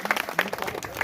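Brief burst of crowd applause at a gathering honouring a music ustad's disciple, dense clapping filling the whole second at moderate loudness with a voice briefly over it.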